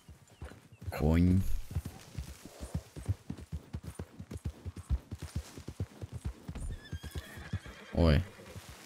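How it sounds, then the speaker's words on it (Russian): In a video game, a horse whinnies loudly twice, near and clear, with steady clip-clop hoofbeats running underneath the whole time. "Конь. Конь."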